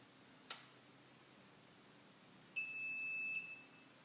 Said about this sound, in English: You get 3 green confirmation beeps.